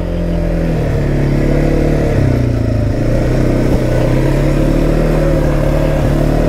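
Kymco Maxxer 450i ATV engine running steadily while being ridden, a loud, continuous mid-low drone with slight throttle variations throughout.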